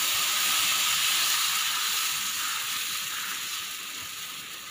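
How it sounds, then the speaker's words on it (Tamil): Dosa batter meets a hot pan with a loud, steady, close sizzle and hiss that fills the whole stretch and slowly fades a little, with no voices. "இப்போ தேந்தோசை ஊற்றுறதுக்கு தோசை நீங்கள் நார்மலாக ஊற்றுற மாதிரி ஊற்றிக்கோங்க"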